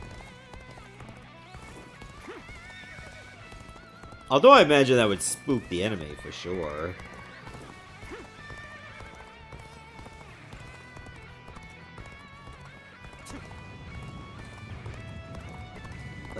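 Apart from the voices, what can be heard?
horse galloping and neighing in Dynasty Warriors: Origins video game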